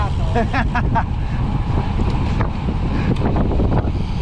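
Steady, heavy wind buffeting the microphone while road cycling with a tailwind near Štanjel, Slovenia, with a few faint chirping squeaks early on and no one talking.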